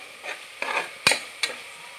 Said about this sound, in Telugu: ఇట్లా ఒక 2 మినిట్స్ మనం కలిపేసి,